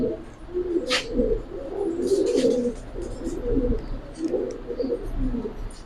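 Giribaz and coloured pigeons coo in low, rolling bursts one after another, close by, with a few faint chirps and clatters from the loft around them.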